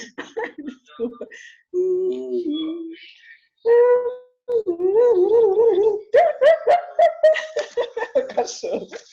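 A voice imitates a dog, giving a series of short barks and wavering, drawn-out howls at close range over about nine seconds, with brief pauses between the calls.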